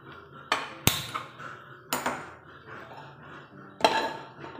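A metal pan is set down on a stovetop in a home kitchen, giving sharp clanks and clattering knocks spaced out over a few seconds, loud and close, with quieter rattling between impacts.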